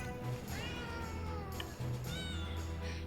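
Cats in the video game Potionomics meow in a series of drawn-out, rising and falling cries, clear and fairly close over a steady low background hum.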